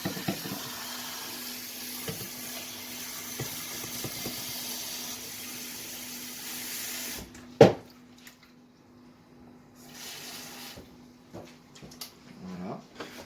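Cold tap water runs into a pot of veal for blanquette, a steady splashing flow that stops partway through. A thud follows, then a few quieter clinks and handling sounds.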